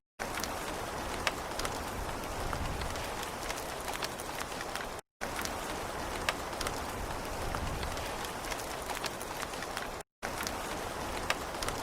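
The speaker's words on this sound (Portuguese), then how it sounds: "Choveu muito, muito, muito." Heavy rain pours down as a dense, steady hiss of water, loud and unbroken apart from two very short cuts in the sound.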